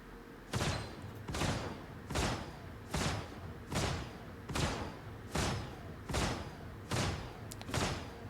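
Distortion guns firing at a Gladius ship in Star Citizen, about ten evenly spaced heavy thumping shots roughly one per second, fairly quiet and distant-sounding.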